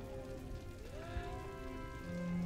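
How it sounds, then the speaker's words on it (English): Steady soft patter of rain in the video game Empire: Total War, a faint even wash running throughout beneath quiet tonal game sounds and a low musical drone. "Now we have rain."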